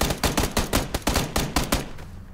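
Rapid automatic gunfire from the shooter game PUBG, about a dozen evenly spaced loud shots in quick succession, then an abrupt stop and fading tail.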